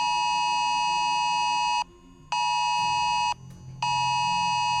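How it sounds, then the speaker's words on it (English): Wireless emergency alert tone from a phone: loud, steady multi-tone beeping in three long blasts separated by short gaps, alone without talk. "Classic alarm that you get on your phone if something bad is going on."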